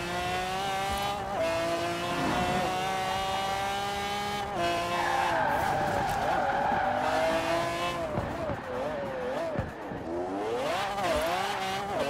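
In the racing game Forza Horizon 4, a very fast car accelerates hard with a loud, continuous engine roar that climbs through rising gear pulls and shifts, with tire squeal and a speaking voice over it.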